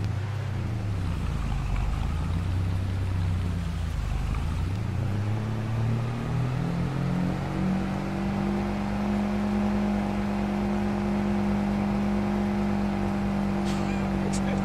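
A truck engine in Farming Simulator 22 rises and falls in pitch through the first half, then settles into a steady, loud drone for the rest, continuous throughout with a voice talking over it.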